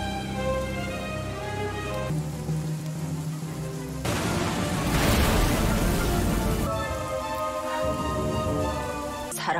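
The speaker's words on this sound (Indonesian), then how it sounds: "karena air hujan yang terus turun" Steady rain falling in a dramatic film scene, a dense hiss of drops that swells louder midway, with music tones running beneath.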